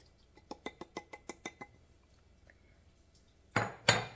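A utensil stirring liquid pancake batter ingredients in a bowl: about eight quick, evenly spaced clinks, a pause, then two louder clattering knocks close by.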